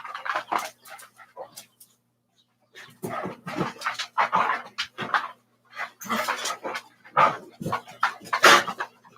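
A pet dog barks and vocalizes in short repeated bursts close by, mixed in with someone talking, with a brief quiet pause partway through.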